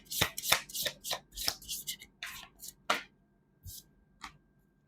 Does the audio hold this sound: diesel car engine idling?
no